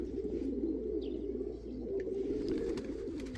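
Racing pigeons coo in their loft, soft low rolling calls repeating under a steady background hum, with a few faint chirps and light taps higher up.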